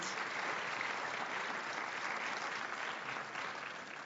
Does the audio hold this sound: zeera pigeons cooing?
no